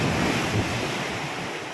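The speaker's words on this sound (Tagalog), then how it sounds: "Medyo malakas ang swell pero okay lang." Ocean swell and surf waves wash against the shore with a steady roar, mixed with wind buffeting the microphone and no voices.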